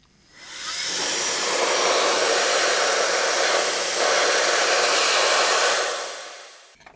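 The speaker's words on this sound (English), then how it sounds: "Let's use a bit of air on it, I think, and that could also blow out any dust that's underneath the lens." A steady, loud rush of blown air aimed at a CD player's laser lens to clear dust, a hissing blast lasting about six seconds that starts and stops cleanly, with no talking.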